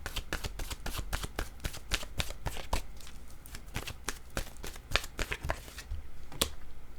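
An oracle card deck is shuffled by hand in rapid, crisp riffling bursts, close and clear. The slapping and flicking comes in quick, fairly regular strokes over several seconds, with no voices.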